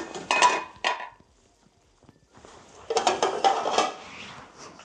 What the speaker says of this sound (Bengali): এখন এটাকে ঢাকনা দিয়ে ঢেকে দেব।